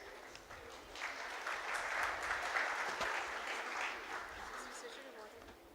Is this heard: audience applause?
yes